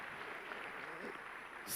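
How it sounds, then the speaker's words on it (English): A crowd of audience members claps in steady applause at an Elon Musk talk on SpaceX at IAC 2023 in Baku, heard at a moderate distance as a dense wash of hands that swells slightly at the end. "Huge round of applause here."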